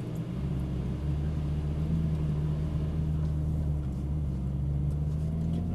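A Ferrari 458 Italia pulls away onto a track, its engine a steady low droning rumble from inside the car, the pitch edging upward gently near the end.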